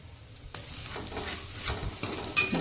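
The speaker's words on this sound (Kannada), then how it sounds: "ಈಗ ಇವನ್ನೆಲ್ಲ ಚೆಂದ ಹುರ್ಕೊಳಂಬ್ರಿ" Sliced bitter gourd fries in hot oil with a steady, close sizzle, while a spoon stirs and scrapes through it in repeated strokes, getting a little louder toward the end.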